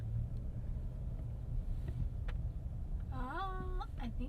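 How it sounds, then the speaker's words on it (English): A 2024 Hyundai Palisade rolling through a turning circle test, a steady low engine and road rumble from inside the cabin, with a short tonal chime or voice toward the end. "We are leaving lunch and immediately going right into a turning circle test here for the Palisade."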